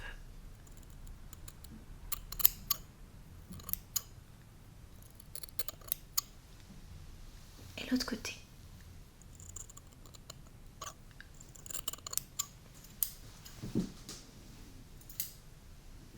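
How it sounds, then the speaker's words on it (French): Quiet, close binaural scissor snips cutting a lock of hair click intermittently near the ear, with soft rustling between them and a brief whispered voice. "je vous coupe une petite mèche de cheveux"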